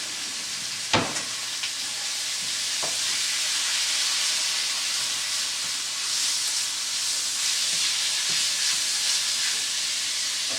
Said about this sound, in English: I'm just taking the sausage product and I'm rendering it down with the garlic and the onion